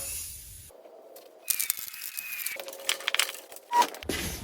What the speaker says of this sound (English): I'm going to spray some degreaser on it.